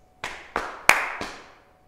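Body percussion with pats and claps: four sharp hand strikes in a steady cadence, close and clear in a quiet room, the third the crispest clap, with no talking.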